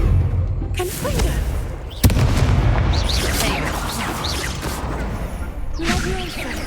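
Confringo fire spell in Hogwarts Legacy, erupting in a sharp blast with layered booms, whooshes and crackling debris that roll on for several seconds amid busy combat effects.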